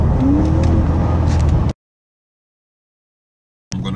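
Infiniti M56 accelerating hard in fourth gear, a loud close engine roar for under two seconds that cuts off abruptly into silence, with a brief return of engine noise at the end.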